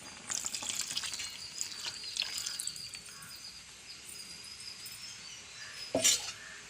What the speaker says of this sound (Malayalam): അപ്പോൾ ഒന്നാം പാലം ഒഴിക്കണം